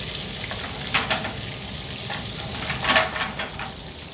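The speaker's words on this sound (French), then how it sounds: "On laisse bien mousser le beurre" Butter foams and sizzles in a frying pan for sole meunière, a steady close hiss broken by a few louder crackling bursts and utensil scrapes, with no voices.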